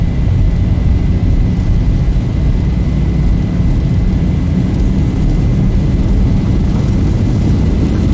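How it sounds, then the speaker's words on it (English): Boeing 737 jet engines at takeoff thrust in the Zibo mod flight simulator, a steady, loud, broadband roar with a deep rumble that holds constant throughout, with no talking. "Takeoff thrust set."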